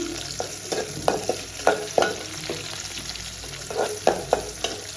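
Onions fry in a pot on the stove with a steady sizzle, broken by repeated scraping strokes of a spoon stirring them, close and alone without talk.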